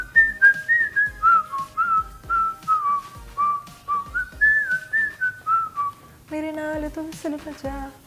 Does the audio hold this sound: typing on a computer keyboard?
no